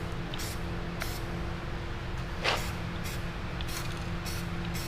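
A Rust-Oleum Ultra Cover rattle can hisses onto a motorcycle air box in several short bursts, close and steady over a constant background hum.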